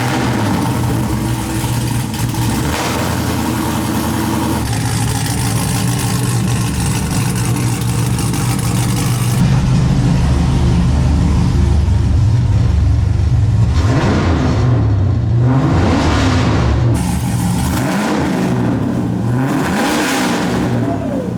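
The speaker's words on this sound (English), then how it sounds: "I think we're ready to fire it up for the first time." An LS-swapped Nissan 350z drift car fires up for the first time with a loud, rough running engine, then several sharp revving swells rising and falling near the end, close and without talk.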